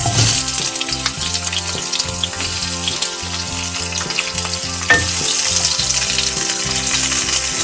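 Chopped onions hitting hot white oil already crackling with cumin seeds, cloves and cardamom, a loud continuous sizzle and spatter that holds steady throughout, with an occasional clink of a utensil.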